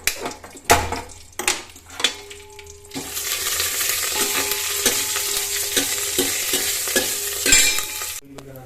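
Spoon clatter and a few sharp metallic knocks, then a loud burst of hot-oil sizzling as curry leaves and dried red chilies are tempered, crackling steadily under occasional stirring.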